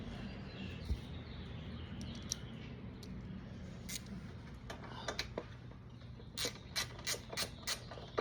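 A ratchet wrench clicks while bolts are tightened on a Yoshimura tail tidy bracket being fitted to a 2026 Yamaha R7 motorcycle, first a few scattered clicks over steady background noise, then a quicker, louder burst of ratcheting near the end.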